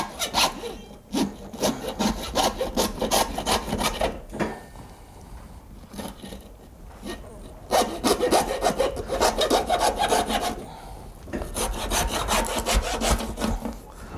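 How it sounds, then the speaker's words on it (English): Steady back-and-forth rasp of a hand saw biting through an animal's breastbone, in repeated strokes with a few short pauses; close and fairly loud, no talking. "Sawing him all the way across down his throat."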